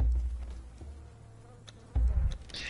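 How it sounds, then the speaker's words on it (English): Bees buzz in the survival video game Conan Exiles: a thin insect drone hums under a low rumble, swelling into a louder burst near the end. "It's the bees."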